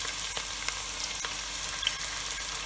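Sliced onions sizzle steadily in hot oil in a pan for a prawn and cucumber curry, a dense even crackle with small pops, close and continuous, with no talking.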